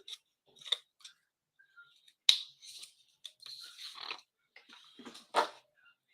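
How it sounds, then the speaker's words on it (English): Scissors cut a piece of paper in half in a handful of crisp, close snips with short gaps between them, heard alone with no talking. "I'm going to cut that just in half, like so"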